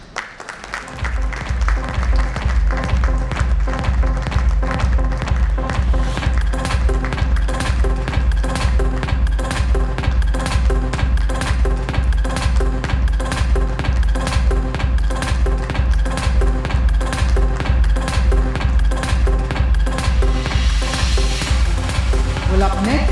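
Applause at an awards felicitation ceremony fills the hall loudly and steadily for over twenty seconds, with a regular rhythmic clapping pulse throughout.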